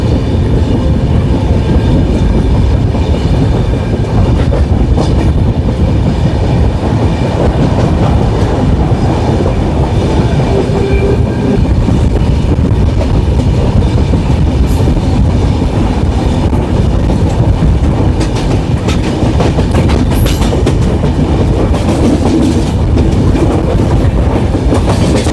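The 15961 Kamrup Express runs through Assam past Dhekiajuli Road station, a loud, steady roar of wheels on rail with continuous clickety-clack heard from inside the carriage and no talking.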